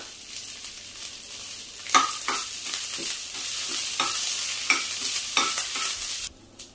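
Mixed tender leaves for a GSB-style tambali dry-roasting in a pan, a steady close sizzle and rustle broken by several sharp scraping stirs, loud throughout and cutting off near the end.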